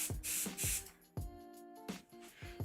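Short bursts of airbrush spray hiss as paint goes onto a Warhammer 40k Abaddon the Despoiler miniature, with several quick puffs over soft background music.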